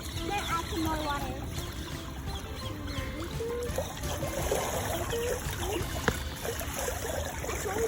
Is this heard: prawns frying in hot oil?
no